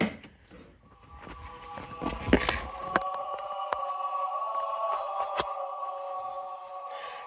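The Halo 3 video game menu music plays as a replacement car buzzer, a sustained chiming electronic tone layered with faint clicks and background noises, moderately loud and close after some rustling handling.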